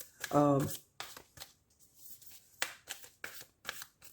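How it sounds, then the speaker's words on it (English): Cards from a Moonology oracle deck are shuffled with a quick riffling burst near the start, followed by softer snaps and handling taps as a card is drawn. A voice speaks intermittently over the card sounds. "we'll take out one card from the Moonology deck"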